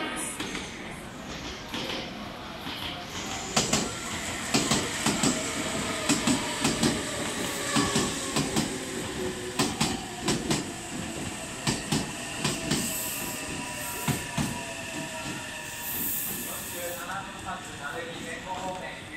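Meitetsu 3500 series and 3150 series express train bound for Toyohashi pulling into Kanayama station platform 4, wheels clacking rhythmically over rail joints with a high squeal and hum as it slows, under station announcements.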